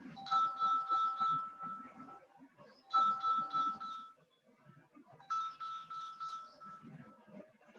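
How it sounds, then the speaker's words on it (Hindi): A mobile phone ringtone near a workshop where bitumen is being heated, playing a bright melodic chime in three repeating bursts, moderately loud over low background rumble. "एक मिनट बताऊँ, फोन आ रहा है ना."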